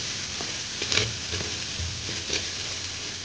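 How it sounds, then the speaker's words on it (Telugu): Ginger garlic paste with turmeric fries in a pot for pot chicken: a continuous even sizzle with a few soft stirring scrapes, close and steady. "అల్లం పచ్చివాసన పోయేలాగా ఫ్రై చేసుకోవాలి"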